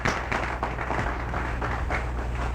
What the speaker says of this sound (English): these people deserve a nice round of applause for their work